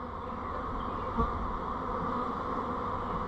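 Honey bees droning in a steady, close swarm hum as they are shaken down from brood frames while making up nucs, with one brief thump partway through.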